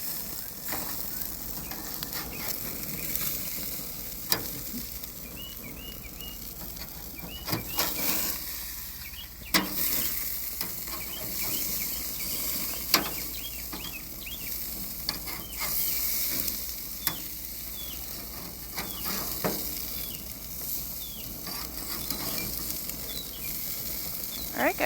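Maple sausages sizzle steadily on a grill during flipping, a low continuous hiss with scattered scrapes and clicks of the utensil, faint and unbroken across the whole stretch.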